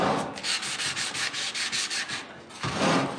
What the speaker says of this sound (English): Just doing a little bit of sanding.